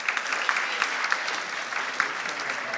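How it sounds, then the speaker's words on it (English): An audience at the Sales Confidence Top 50 Sales Leader Awards 2022 in the De Vere Grand Connaught applauds a speaker, a steady, dense wash of clapping that carries evenly from start to finish. "So let's have a round of applause for Adam, our final speaker."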